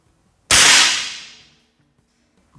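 A single sharp crack from a Rossi pump-action air rifle firing, loud and close, with a bright burst that tails off over about a second into quiet.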